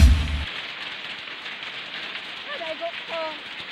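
Steady dense patter of hail drumming on house roofs during heavy rain and wind in Cotabato Province, a constant hiss of impacts with a few faint voices near the end.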